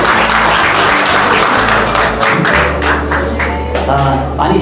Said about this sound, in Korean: 소개하겠습니다. 박수로.